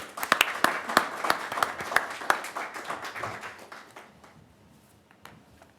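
Audience applause at a commissioners' meeting, a burst of many hands clapping that starts strong with sharp individual claps and gradually thins out and fades over several seconds, with no talking.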